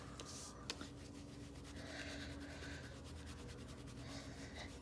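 A microfiber cloth wipes a surface used for blending ink in crafting, making a continuous soft, faint rubbing swish close by.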